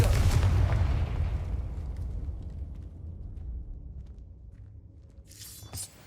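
A Confringo spell blast in Hogwarts Legacy erupts as a loud explosive boom that rolls off into a long fading rumble, followed by a brief crackling burst near the end.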